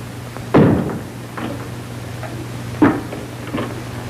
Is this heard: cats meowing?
no